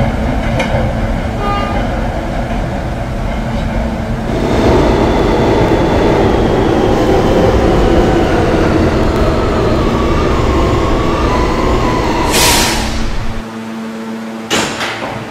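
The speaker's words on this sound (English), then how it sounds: "This is a Rentar Plaza bound D train." An R160 D subway train runs in a Roblox game, a loud, steady rolling rumble with rising motor whine and rattling car noise, ending with brief sharp hisses and a drop in level near the end.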